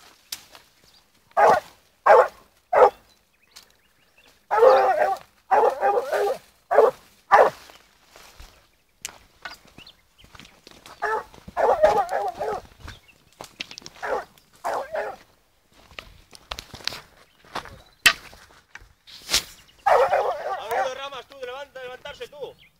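A blue griffon hunting dog, fourteen months old, barks repeatedly on a wild boar trail outdoors. The sharp barks come in irregular bursts, some near and loud, with whimpering yips and footsteps between them, and people speak now and then.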